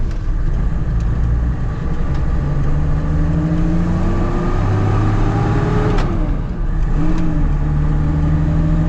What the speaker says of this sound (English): We'll get our first kind of acceleration here.